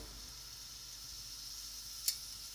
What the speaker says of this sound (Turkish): İçine küçük bir parça hamur atıyorum.